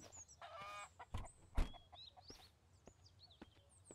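A chicken clucks in the video game Mist Survival, giving a few short, faint clucks among birdsong and a couple of soft thumps, at a low overall level with no speech.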